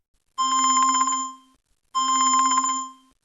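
A telephone rings twice, each ring a bright warbling electronic trill lasting about a second, separated by a short silence, close and clear against a quiet background.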